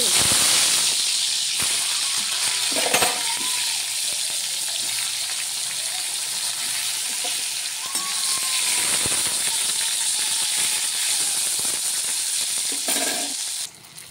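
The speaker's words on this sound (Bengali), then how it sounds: "এটা দেখো ভাজা হয়ে গেছে, আরেক দিকটা আমি ভেজে নিচ্ছি।" Eggplant slices fry in hot oil with a loud, continuous hissing sizzle that surges and eases, close to the mic, and nobody speaks.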